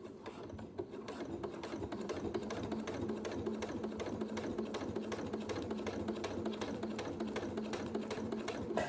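Sewing machine stitching a dress lining and bodice, a steady fast mechanical rattle that runs continuously and evenly for several seconds, close and fairly quiet with no talking.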